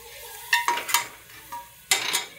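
Turmeric masala sizzles in a pan as it is stirred, with short scraping strokes and a few sharp clinks of a spoon against metal, close and distinct with no talk.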